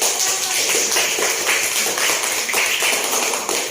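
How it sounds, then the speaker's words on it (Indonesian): A classroom of schoolchildren claps together during a religious-education lesson, making a loud, dense patter of many hands that carries on without pause for several seconds. "Tepuk tangan."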